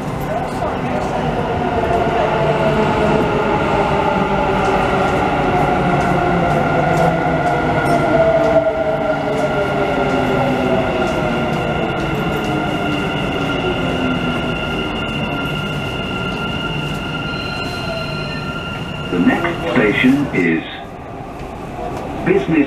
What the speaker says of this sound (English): The train to UAE exchange will arrive at UAE exchange platform.